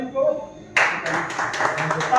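An audience breaks into sudden, steady clapping at a Republic Day award ceremony, continuing for over a second with irregular bursts as voices murmur underneath.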